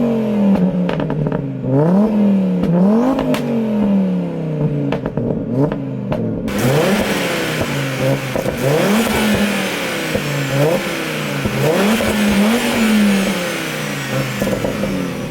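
Loud, close revving from a 650bhp Audi RS3 with a Daza engine block and full Milltek exhaust, a deep tone blipping repeatedly in quick rising and falling sweeps, then holding a steady raspy roar with crackle.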